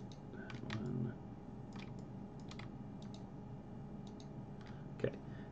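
Computer mouse clicks during a building-design software session, a few faint sharp clicks scattered over quiet room tone with one louder click near the end.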